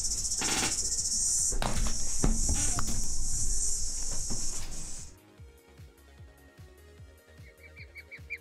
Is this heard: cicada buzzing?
yes